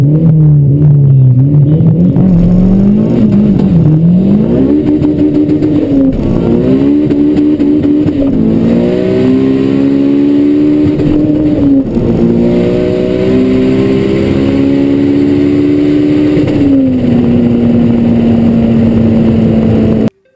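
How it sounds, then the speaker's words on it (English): A turbocharged 13B rotary engine car accelerates hard, its loud buzzing drone climbing in pitch through several gear changes, close and sustained with no speech. "just take a listen to the amazing sound of this 13B."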